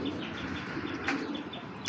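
Pigeons, a big racer-size silver pair, flap their wings close by, a soft fluttering rustle with a brief stronger burst of wingbeats, faint cooing in the background.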